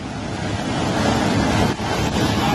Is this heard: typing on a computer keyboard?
no